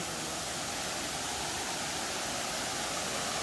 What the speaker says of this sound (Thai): ได้ยินเสียงน้ำไหมคะทุกท่าน